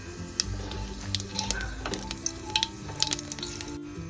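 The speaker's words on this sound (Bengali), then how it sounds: "ওই তেলেই দিয়ে দেবো হাফ চামচ কালো জিরে ফোড়ন" Black cumin seeds (kalo jeere) crackle in hot oil left over from frying koi fish for a fish curry. A quick patter of small pops and crackles runs over a soft sizzle, close and moderate in level.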